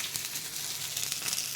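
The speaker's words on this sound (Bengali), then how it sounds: "মাছ ভাজা হচ্ছে" Fish sizzling in hot oil in a home kitchen, a close, continuous crackling hiss with small spitting pops, steady and alone.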